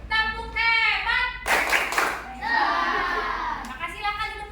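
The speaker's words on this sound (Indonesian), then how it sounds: "Kasih tepuk hebat buat kelompok 1." A classroom of children giving a rhythmic patterned group clap to praise a group, a loud burst of hand claps between stretches of children's chanting voices, near and lively.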